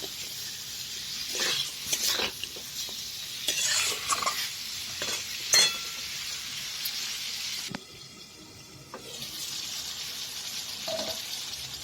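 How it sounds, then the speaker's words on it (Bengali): Prawns with green banana and potato sizzle in a pan as they are stir-fried, with a spatula scraping and tapping in bursts over a continuous close frying hiss. "চিংড়ি মাছটা দিয়ে আর একটু কষিয়ে নেব"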